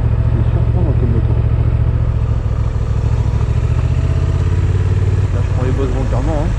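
A Honda Transalp 750 motorcycle rides over bumps with a loud, steady engine drone close to the rider. Someone talks over the engine throughout.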